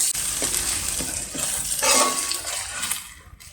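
Turmeric being stirred into ginger garlic paste frying in oil in a pan for a village-style chicken curry: a steady soft sizzle with light scraping and clinks of a spoon against the pan, close and continuous.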